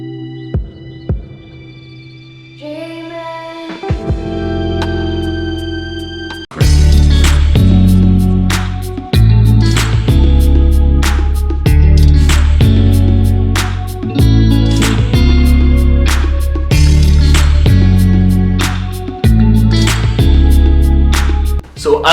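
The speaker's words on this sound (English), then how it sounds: "you can expect ambient guitar, percussive drums, a lot of influences from various genres, and just a general sick beat" A produced beat opens with a soft ambient guitar intro, then punchy percussive drums and a thick low end kick in, driving in a steady loud groove under layered guitar.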